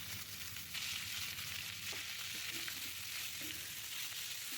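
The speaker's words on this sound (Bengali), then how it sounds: "হালকা করে ভেজে নিতে হবে" Chopped radish frying with fried potatoes in a pan on a low flame, a soft, steady sizzle with light stirring, quiet and continuous, no voices.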